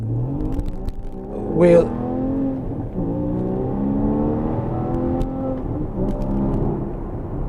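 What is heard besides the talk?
Porsche Boxster Spyder with Akrapovic exhaust revving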